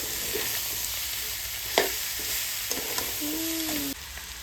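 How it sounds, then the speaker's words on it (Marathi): Mashed potato and turmeric are stirred together in a pan for a paratha filling, with a soft, continuous scraping and faint sizzle, a few light clinks and a brief squeak near the end. "बटाटा वगैरे घेतला बघा टाकून मिक्स करून घ्यायचं"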